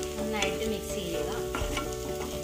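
Mashed potato filling with salt, for potato rolls, is stirred in a pan under a steady close sizzle, with soft scraping strokes throughout and no talking.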